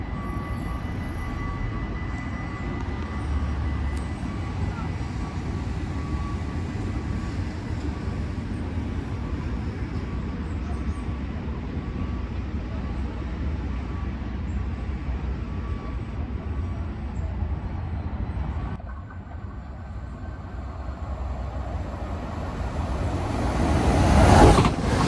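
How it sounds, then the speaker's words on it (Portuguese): A low, steady rumble of an NS intercity train passing through Oisterwijk station in the Netherlands without stopping, fairly distant at first, growing louder and rougher toward the end. "tá vindo um trem ali que é um intercidade, vai passar direto"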